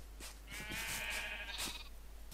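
A sheep in a video game gives a single clear, wavering bleat, fairly close and loud over a faint low hum, with no talking.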